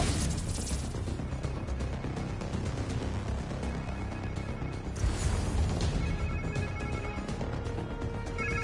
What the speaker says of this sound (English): Sounds like somebody's phone.